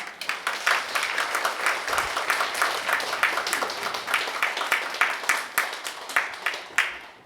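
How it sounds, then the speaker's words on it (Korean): A church audience at a New Year scripture meditation seminar gives the pastor a round of applause, with steady, moderately loud clapping from many hands carrying on for several seconds without talk. "우리 수고하신 목사님에게 우리 큰 박수를 다시 한번 감사드리겠습니다"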